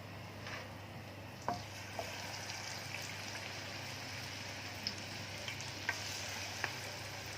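Chicken fries in very hot oil, KFC-style, giving a steady low sizzle broken by a few sharp pops and crackles, heard close up with no one talking.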